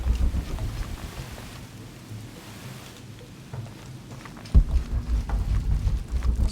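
Rain and thunder in the video game Shadow of the Tomb Raider: a steady wash of rain and wind with low rolling rumbles, building to a louder thunder crack near the end, with no voices.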